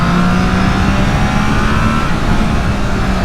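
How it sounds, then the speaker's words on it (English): A 2023 Triumph Trident's three-cylinder engine pulls hard under acceleration, a loud, steady, dense roar close to the rider with a faint rising pitch and no break throughout. "that triple noise actually makes you feel like you're going a bit faster than you are"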